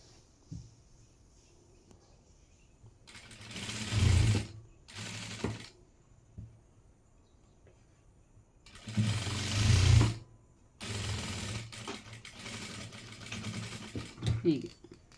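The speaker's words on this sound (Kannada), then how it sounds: "ನೀಟಾಗಿ ಒಂದಕ್ಕೊಂದು ಜೋಡಿಸ್ಕೊಂಡು ಈ ರೀತಿಯಾಗಿ ಸ್ಟಿಚ್ ಮಾಡಬೇಕು" A sewing machine stitching a fabric mask runs in several short bursts of rapid mechanical chatter, with quiet pauses between, and a person speaks at low level.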